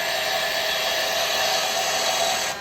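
A carbide cutter takes a planing cut on spinning wood on a lathe, giving a steady, loud broadband hiss and whir that holds evenly throughout and eases slightly at the very end, with no talking.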